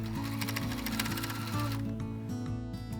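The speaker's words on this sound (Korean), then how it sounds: "이렇게 재봉할 수 있는 곳은 재봉하다가 조금 당겨오고 조금 당겨오고 이렇게 계속 겉면과 겉면끼리 맞닿게 해주시면 돼요." A sewing machine runs steadily while stitching fabric for a dog balaclava, its needle hammering in a quick mechanical rhythm with brief slowdowns as the cloth is pulled through, close and alone.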